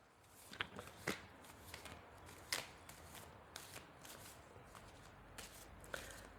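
Soft riffling and slapping of tarot cards being shuffled, in several quick bursts with short pauses, close and fairly quiet.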